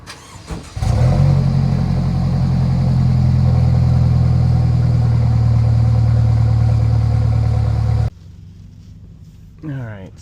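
A Mercedes C300 W205 with its exhaust muffler deleted starts with a sharp bark, then drones loudly and steadily for several seconds before cutting off abruptly, followed by a brief voice.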